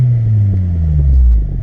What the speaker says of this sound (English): Just a little rev.